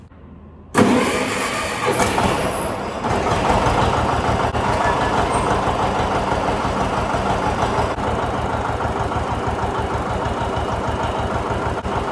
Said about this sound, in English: We're gonna start the tractor